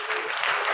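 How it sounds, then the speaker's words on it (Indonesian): Church congregation clapping together in steady, dense applause, close and loud throughout with no voices standing out. "Berikan tepuk tangan, hormat dan kemuliaan hanya untuk Tuhan"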